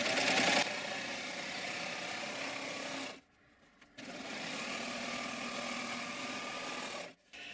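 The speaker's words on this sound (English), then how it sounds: "I'm going to go ahead while I'm at the serger and do both masks" A serger runs in steady, rapid stitching bursts while finishing the raw edges of fabric face masks, with a brief pause near the middle and a short stop near the end, close and loud.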